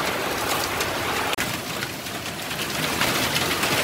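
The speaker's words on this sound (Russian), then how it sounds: "Смотрите, дождь прямо стеной." A heavy rain downpour mixed with hail during a storm at a country house, a dense, continuous hiss of water with one brief sharp knock partway through.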